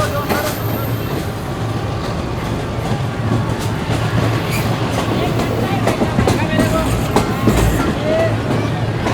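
The Shalimar Express rolls past on its first run in Lahore, a loud continuous rumble with rhythmic clickety-clack of wheels and a faint squeal, while people talk nearby.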